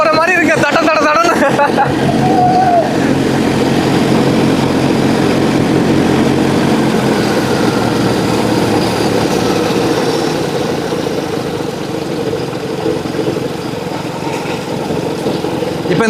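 A paramotor engine and propeller roar loud and steady throughout, a continuous close droning hum with rushing wind and a voice speaking over it at the start.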